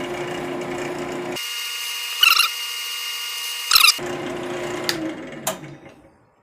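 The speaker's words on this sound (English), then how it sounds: "You can use water to keep the drill cool." A steady whining drill runs close by, boring a hole while making a whistle, its pitch shifting as it bites, with a couple of sharp squeals and scrapes before it winds down.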